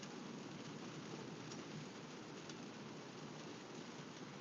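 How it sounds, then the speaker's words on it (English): Steady, dense rain pours outside on the street, a loud continuous hiss with no break and no voices. "Y'all hear that rain?"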